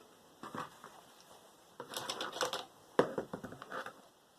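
Scissors snip through thick fabric scraps, giving faint, close, irregular crunchy cuts in short clusters over a quiet background, with no talking.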